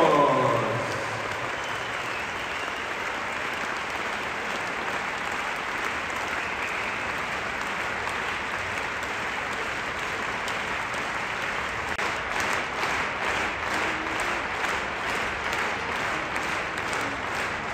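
Sustained applause from a large audience in an arena at the Equitana horse show, steady dense clapping for the whole stretch with crowd noise, growing slightly more rhythmic near the end.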